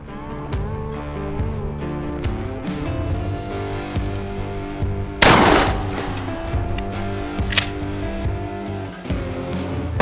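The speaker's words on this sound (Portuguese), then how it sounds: "vamos para os disparos" Loud 12-gauge shotgun shots crack repeatedly in rapid bursts at a meat target over a droning background, with one especially sharp blast near the middle.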